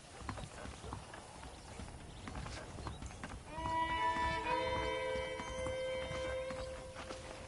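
Horse hooves clip-clopping in the video game Red Dead Redemption, steady rhythmic hoofbeats of saddled horses walking, with a whinny and a voice speaking over them.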